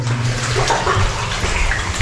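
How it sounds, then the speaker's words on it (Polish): Boots wade through knee-deep water in a flooded mine adit, stirring and sloshing it in a continuous, close, echoing churn with no pauses. "Teraz już zbełtaliśmy tą wodę"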